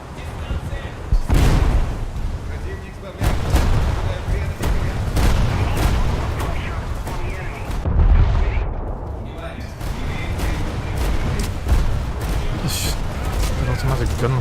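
Anti-air automatic guns on a warship fire in a naval video game, repeated booming bursts and rattling shots over a rumbling battle din, with someone talking throughout.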